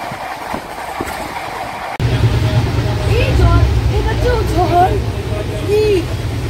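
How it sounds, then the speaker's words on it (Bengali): The 13149 Up Kanchankanya Express from Sealdah runs at speed, heard from inside the coach as a loud, steady rumble with rattling and squealing wheel tones, the roar swelling sharply after the first two seconds. "মালদা স্টেশন পেরোনোর পর আমাদের ট্রেন তার ঠিকঠাক গতি মেনটেন করে সামনের দিকে"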